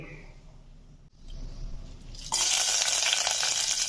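Dried red chilies and shallots dropped into hot oil for a tempering, first a quieter simmer, then a sudden loud, steady sizzle and crackle.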